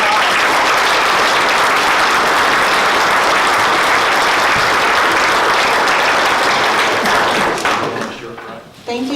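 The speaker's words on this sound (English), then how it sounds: "Let's give them all a round of applause." A forum audience claps in a sustained, dense round of applause, loud and close, tapering off in the final second.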